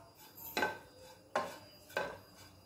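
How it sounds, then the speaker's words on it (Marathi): Grated coconut dry-roasting in a pan (kadhai) is stirred with a utensil, giving three distinct scraping clinks spaced about a second apart over a quiet background. "सुरुवातीला खोबरं हे व्यवस्थित भाजून घ्यायचं आहे"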